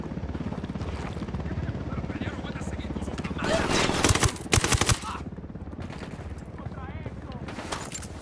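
Helicopter in the military shooter Ghost Recon Wildlands, a rhythmic thumping rotor beneath gunfire bursts and voices, the firing growing loudest midway before easing back to the steady chopper drone.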